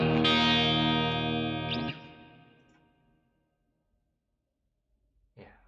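Guitar played through an HX Stomp with spring and plate reverb, a strummed chord ringing out and decaying into a reverberant tail, then a short new pluck at the end.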